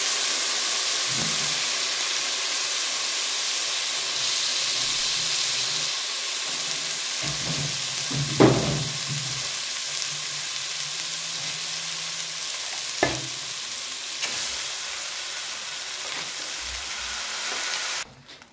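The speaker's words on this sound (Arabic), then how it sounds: "هنصفي الرز وايه ونحطه على الشعريه ونديله تقليبه كده قبل ما نحط الميه" Rice and vermicelli frying together in a pot, a continuous close hiss with occasional scrapes and knocks of stirring, ending abruptly.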